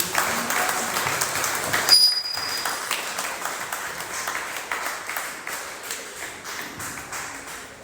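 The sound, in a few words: church congregation applauding and acclaiming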